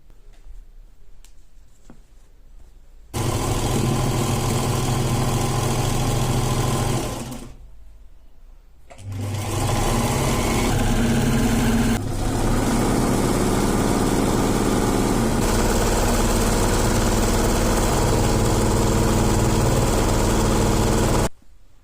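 A sewing machine stitching fabric bunting flags, a loud, fast, steady mechanical whir in long continuous runs broken by brief pauses and a short stop partway, close up with no talk.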